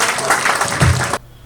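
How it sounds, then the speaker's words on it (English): A crowd at an installation ceremony for the Association of Buyam-Selam (ASBY) North West claps in a brief, full burst that cuts off suddenly after about a second. "Let's give a very big hand of applause to Asby for this great job that I've been doing in the Northwest region."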